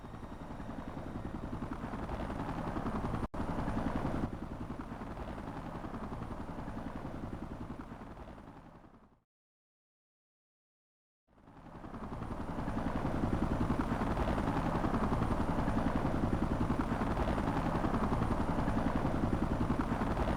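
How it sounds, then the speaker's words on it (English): A helicopter's steady rotor drone in the video game Xenoblade Chronicles X fills the scene, cutting out abruptly to silence for a couple of seconds before the loud chopping roar resumes. "Been a while since we saw the Skell moving helicopter."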